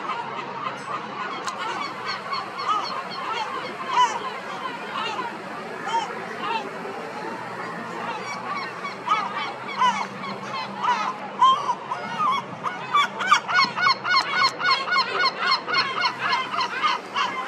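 Geese honk in a loud flock at sunset, with the calls growing denser and more rhythmic toward the end, and faint human voices in the background.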